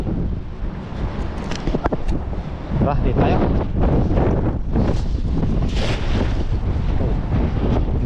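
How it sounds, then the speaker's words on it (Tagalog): Strong wind gusts roar across an open sea during a fishing trip, buffeting the microphone in loud, uneven surges beneath a man's brief speech. "Grabe ang lakas ng hangin na yan"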